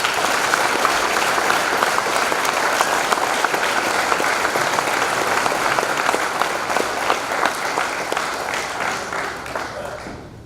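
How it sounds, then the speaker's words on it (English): An audience at a Veterans Day school assembly gives a long, warm round of applause for veterans, loud dense clapping that continues steadily before tapering off at the end. "give a warm round of applause for our veterans"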